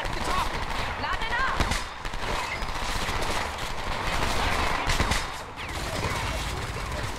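Gunfire in the video game Homefront, dense overlapping bursts of automatic rifle fire in a chaotic firefight, steady and loud throughout, mixed with shouting voices.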